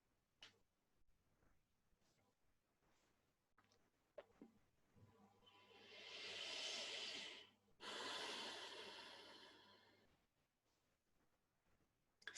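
Slow, deep yoga breathing heard up close, with quiet intervals, then one long soft inhale and a long airy exhale, followed by faint ticking in the background.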